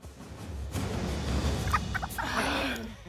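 Chickens being caught let out agitated clucks and squawks amid scuffling and rustling, fairly close, with a burst of busy noise near the end.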